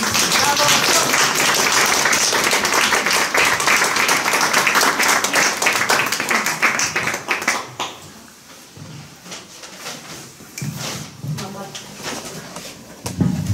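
An audience at a clay-print exhibition opening claps loudly and densely, then the applause thins into scattered claps under a voice speaking.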